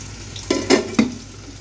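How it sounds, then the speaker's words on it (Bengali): Pieces of paneer fry in a pan with a steady background sizzle, broken by three quick scraping clatters as they are stirred or turned, and no one speaks. "এখানে ছেলের জন্য কয়েকটা পনির ভেজে নিচ্ছি"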